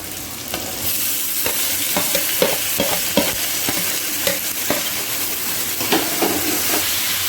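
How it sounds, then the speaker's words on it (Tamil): Onions and tomatoes for a sankara fish kuzhambu fry in a pan, a steady hiss punctuated by repeated spatula scrapes and taps, close and fairly loud, without speech. "இது நல்லா வதங்கட்டும். இப்போ பாருங்க ஃப்ரெண்ட்ஸ், வெங்காயம் வந்து வதங்கிடுச்சு."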